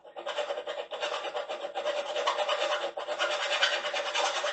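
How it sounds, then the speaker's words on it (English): Steady back-and-forth rasping of a flat file across metal, cleaning up a part before welding on a Kawasaki KZ400 street tracker build; continuous, close and moderately loud. "Just a nice flat file."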